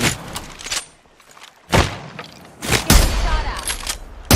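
Bursts of automatic gunfire from the video game Apex Legends crack loudly in several separate volleys, with quieter gaps and muffled thumps between them.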